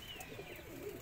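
Teddy and Kamager breed pigeons coo softly in a loft setup, a brief low murmuring call, faint against the background.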